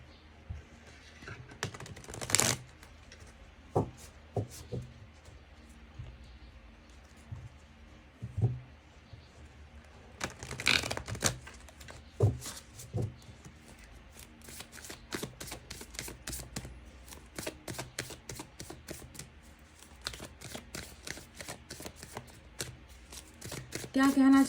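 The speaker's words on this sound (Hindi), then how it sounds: "चलिए इस दूसरे डेक से भी हम निकालेंगे कुछ कार्ड्स।" A tarot card deck is shuffled close by: soft taps and flicks at first, then a long run of rapid riffling clicks that grows busier toward the end, with a voice at times.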